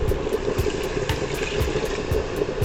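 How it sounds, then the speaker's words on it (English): Hot water pours steadily into a pot of Jamaican-style stew pork, a continuous liquid rush with faint bubbling, close by and fairly loud, no voices. "I'll add some more hot water to it."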